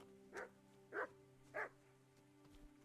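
A dog in the medieval video game Kingdom Come: Deliverance barks three times at an even pace, quiet and fairly close, over a low steady background hum.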